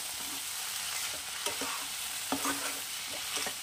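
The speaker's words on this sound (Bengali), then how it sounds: "নারকেল কোড়া দিয়ে নাড়িয়ে নামিয়ে দেবো মুগ ডাল দিয়ে লাউ।" Bottle gourd and moong dal with grated coconut are stirred in a pan, with a soft continuous frying hiss and a few spoon scrapes and taps, fairly quiet and close.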